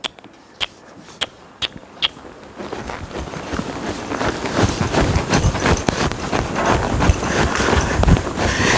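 A horse trots around a dirt arena under a rider, first a few sharp, widely spaced hoof strikes, then a steady, denser run of thudding footfalls close by.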